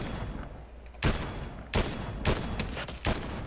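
Enemy gunfire in a Fortnite battle royale trios match: four loud, sharp bursts of shots roughly half a second to a second apart, each cracking out over a steady low game backdrop, with no talking.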